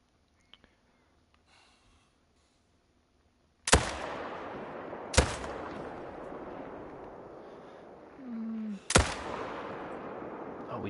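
Hunting rifle shots in theHunter: Call of the Wild: three loud, sharp reports spread across the clip, each followed by a long rolling echo, with a brief low tone in between.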